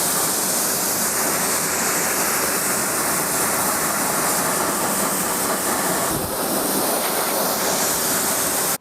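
Pressure-washer water spraying onto car wheels to rinse off fallout remover, a steady loud broadband hiss running unbroken throughout, close to the microphone with no talking.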